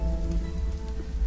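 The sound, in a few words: rain in the video game Fatermyth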